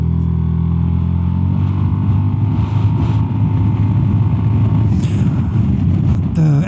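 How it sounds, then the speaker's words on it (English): A Zontes 350E maxi scooter, rated at 36.7 horsepower, accelerates in a steady rising engine drone that stays loud and close throughout, with a brief shift in tone near the end. "So now I will do a short acceleration test."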